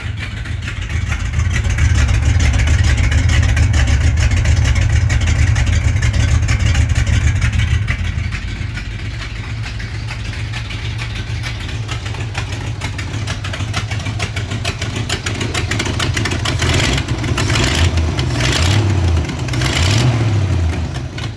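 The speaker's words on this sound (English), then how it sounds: "you can hear the exhaust leak" A Ford Ranger with a swapped 5.0 V8 running with an exhaust leak, a loud, close, rough idle with a ticking rasp that drops slightly, then rises into a few quick revs toward the end.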